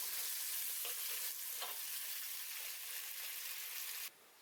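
Chopped carrot, cucumber, brinjal and tomato stirred in a pot for South Indian idli sambar, with a low continuous sizzle and a few soft scraping strokes, close and fairly quiet.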